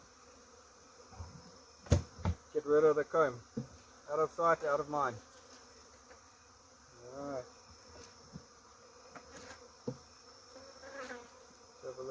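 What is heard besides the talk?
bees buzzing during a beehive cut-out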